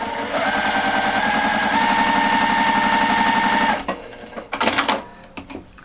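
A sewing machine runs steadily for close to four seconds, stitching a quarter-inch seam through fabric scraps with a close, even mechanical whir, then stops, followed by a few brief handling clatters.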